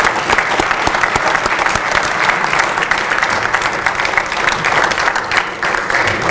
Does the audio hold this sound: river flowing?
no